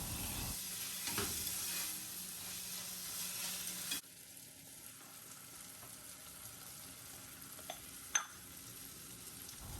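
Tomato and green chillies sautéing in a pan, a soft steady sizzle with occasional stirring clinks, fairly faint and close.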